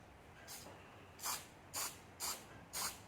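Short bursts of spray paint hissing onto a pinning tray, four or five quick spritzes spaced a half second apart, close and fairly quiet.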